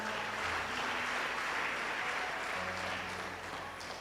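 A congregation at a church baptism teaching claps together, a dense continuous wash of applause at moderate volume with no break.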